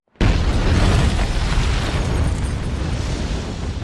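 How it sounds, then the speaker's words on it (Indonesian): A sudden, loud explosion as a building blows up, rumbling on as a sustained roar of debris, fading slightly over a few seconds. "M justru melihat gedungnya tiba-tiba meledak."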